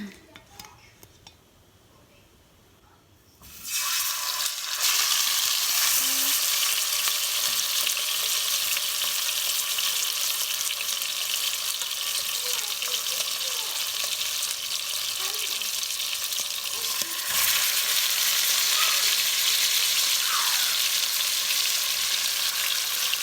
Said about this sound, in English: Be careful when adding the fish, as always, especially when you're dealing with, you know, hot grease.